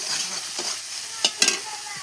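Tomatoes fry with onion and spices for a fish curry, a steady hiss of oil under a few sharp scraping stirs of a spatula against the pan.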